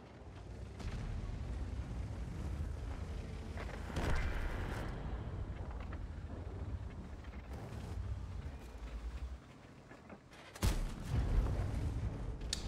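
A Leopard 1 tank's main gun fires in a tank video game on the Mountain Pass map, two heavy booming blasts several seconds apart over a steady rumbling engine drone, the second shot louder and closer.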